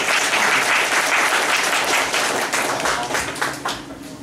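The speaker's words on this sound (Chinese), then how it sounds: "那我们先一起掌声欢迎一下朱家安" A seated audience breaks into sustained, dense applause to welcome a philosophy writer onto the stage, clapping loud and steady throughout before thinning slightly toward the end.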